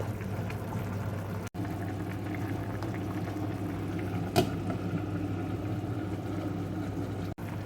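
Steady low bubbling and simmering of a thick curry in a pan on a gas stove, continuous and close, with a faint clink partway through.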